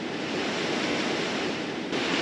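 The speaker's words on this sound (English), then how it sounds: "right behind where the waves are breaking" Ocean waves break and wash over a sandbar at a surf-fishing beach, a steady, loud roar of churning surf filling the whole stretch, with a slight surge near the end.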